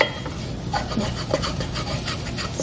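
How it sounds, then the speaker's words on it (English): A wooden spatula scrapes browned bits off the bottom of a pot while homemade cream of mushroom soup is made, giving a continuous close rasping rub with quick repeated strokes and no voices. "Scrape off those little bits up."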